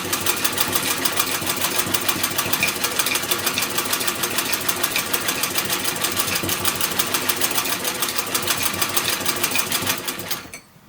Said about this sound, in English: Alright, hemming the dress now.